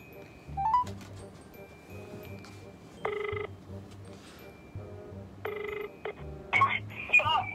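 A phone dials out to place a call, with short bursts of electronic dialing tones and ringing beeps spread through a quiet room, and faint background noise between the tones.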